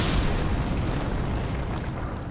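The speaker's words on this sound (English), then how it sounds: "Shame they don't trigger each other's explosions." Creature explosions in the video game Elden Ring: a loud, dense rumbling boom that sustains over two seconds with a sharp burst at the start, heard alone without speech.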